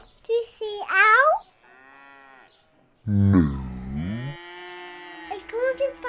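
Cartoon cow mooing in an animated children's show, a long, loud, close moo sliding in pitch, preceded by a character's short spoken reply and followed by other voices and soft background music.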